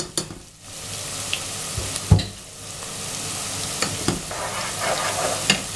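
Onions go into a hot pot for a stewed meat dish, sizzling and frying steadily up close, with a few sharp stirring clanks and scrapes over the continuous hiss.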